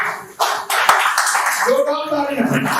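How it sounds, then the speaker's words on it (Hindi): A crowd at a community caste-association jayanti gathering in Mumbai bursts into brief, loud clapping, with a few sharp claps up front. Spoken voices over a microphone quickly take over and run on top of it. "जोरदार तालियां"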